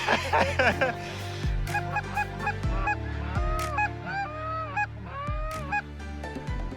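A flock of Canada geese honks loudly and repeatedly at a lake, overlapping nasal calls rising and falling near and far, with faint voices underneath.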